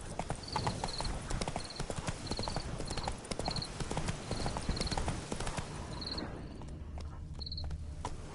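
A horse galloping in The Witcher 3 on PS4, with dense rhythmic hoofbeats over chirping crickets in the background, easing off near the end while the insects carry on.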